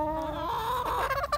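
A pet chicken clucks loudly and insistently at close range, a short run of rising, squawking clucks.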